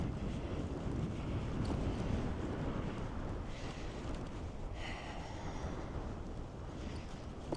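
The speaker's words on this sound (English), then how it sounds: "you can hear some of the wind" Strong wind buffets the microphone during a bike ride in Mississauga in a continuous low rumble, with gusty swells and no talking.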